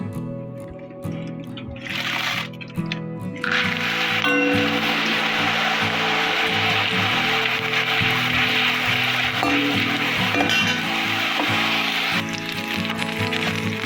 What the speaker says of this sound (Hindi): हम इसको थोड़ी देर फ्राई करेंगे बिल्कुल धीमी आंच में